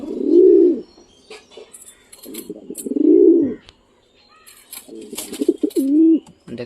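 Pigeons in a loft coo in several deep, rolling bursts, close and loud, with softer bird chatter and rustling between the calls.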